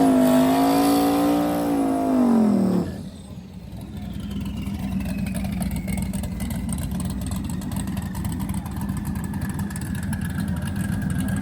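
Drag race cars, a Trans Am and a Mustang, scream through a rising, high-pitched engine wail that cuts off abruptly, followed by a steady, more distant roar of engines accelerating down the track.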